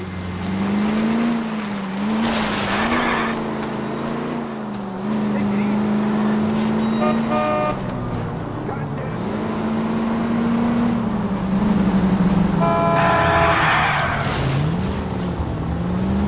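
A car in the video game L.A. Noire races along at speed, its engine droning with rising and falling pitch and tires squealing at points, loud and continuous.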